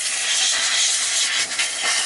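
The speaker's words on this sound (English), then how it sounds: "I'm just going to shoot whatever contact cleaner I can around the place a little bit" Contact cleaner is sprayed around the inside of a Maverick F4 guitar's tremolo cavity, a loud, close, continuous aerosol hiss of about two seconds with a brief dip near the end.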